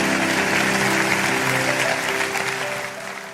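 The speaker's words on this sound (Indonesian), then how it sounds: "Kasih tepuk tangan untuk Tuhan Yesus." A church congregation claps during a sermon, with steady applause over sustained instrumental tones that gradually fades toward the end.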